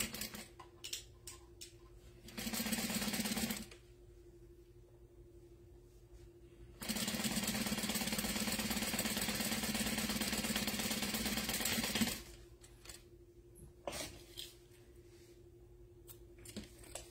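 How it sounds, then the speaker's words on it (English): A sewing machine stitches along the bottom edges of a wallet interior, two bursts of rapid steady whirring, one short and one longer, separated by quiet handling and clicks. "you're just going to sew along those bottom edges"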